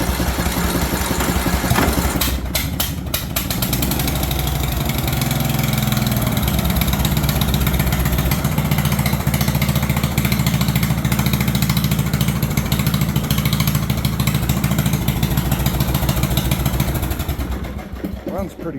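A Bolens 38-inch riding mower engine, with a head gasket previously replaced, runs steadily and loudly at a close, even idle for nearly the whole stretch before tapering off at the end.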